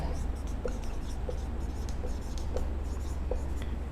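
A pen scratches out a Hindi-language maths exercise on sets by hand in short, faint strokes. The strokes come in a loose rhythm over a steady background hiss, with no clear speech.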